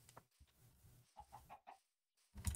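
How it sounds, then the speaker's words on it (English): Chickens in a video game cluck in a string of short, fairly faint bursts, with a louder, denser squawk near the end and no talking over them. "Chickens? Oh my gosh."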